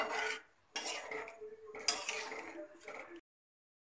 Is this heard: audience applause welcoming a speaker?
no